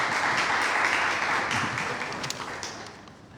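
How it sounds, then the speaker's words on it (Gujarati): An audience at a Gujarati poetry festival bursts into dense, continuous applause, many hands clapping together at moderate distance and tapering slightly toward the end. "કુંજલભાઈને એકવાર તાળીઓથી આપણે વધાવી દઈએ"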